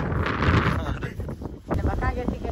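Wind gusting across a microphone outdoors, a rough continuous rumble that swells and dips with the gusts while people talk nearby.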